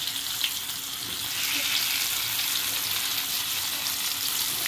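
Battered vegan lambari fish fillet, coated in salt, egg and wheat flour, frying in hot oil, giving a steady close hiss that thickens slightly partway through and runs without a break.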